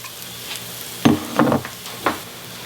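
A spice mix for a vegan tagine hits a hot pan and sizzles in three short bursts over a quiet background, each hiss flaring up and fading quickly, with no talking.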